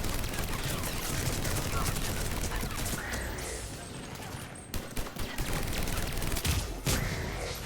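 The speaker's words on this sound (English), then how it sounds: "Sometimes when Javik fires that gun, I'm thinking it's an enemy." Gunfire from Javik's gun in the game Mass Effect 3 crackles in rapid bursts and sharp cracks over a dense battle din, with a voice talking at times and a few louder isolated blasts near the end.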